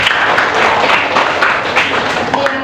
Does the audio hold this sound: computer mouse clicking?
no